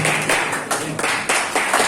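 Applause at a graduation ceremony, a burst of close, dense hand clapping in repeated surges lasting under two seconds.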